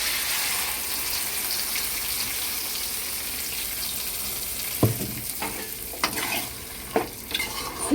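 Ground masala paste sautés in oil for a mushroom gravy, a continuous soft sizzle broken by several sharp scraping stirs of a spoon against the pan toward the end.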